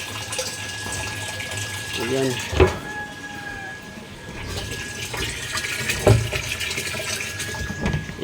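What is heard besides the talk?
water pump filling tank with water from the mountain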